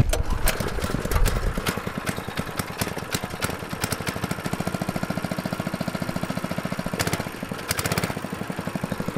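A lawn mower's small engine runs close by with a fast, rhythmic chugging putter and a few sharp clanks, steady and fairly loud throughout.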